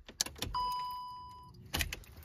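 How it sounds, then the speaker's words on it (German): A car's ignition is switched on, giving a clunk and a clear electronic beep tone of about a second, followed by a second clunk and rustling handling sounds nearby. "Ich schalte mal ein, und zwar die Zündung."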